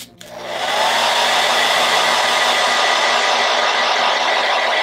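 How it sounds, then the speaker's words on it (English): A blow dryer switches on and runs at full power to heat hairsprayed synthetic wig fibers, making a loud, steady, close airy roar that holds for several seconds without speech. "we're gonna go in with a blow dryer"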